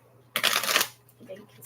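A quick, crisp riffle of shuffled tarot cards, close by, followed by softer card handling.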